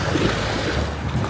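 Strong sea waves and gusting wind form a close, continuous roar and buffet the microphone. Over this brief stretch the sound stays loud and unbroken, with no talking.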